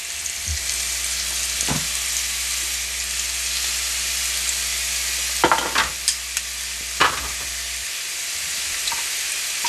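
Salmon pieces sizzle on the hot grill of a Ninja Foodi Smart XL, a steady close hiss broken by a few sharp clacks and scrapes as pieces are set down.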